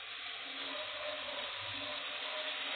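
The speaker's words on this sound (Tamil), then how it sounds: "இந்த ஸ்டேஜில் புளி கரைசல் ஆட் பண்ணிக்கலாம்." Tamarind water is poured into a pan of fenugreek curry, a continuous watery gush with a faint sizzle underneath, steady and close for under three seconds.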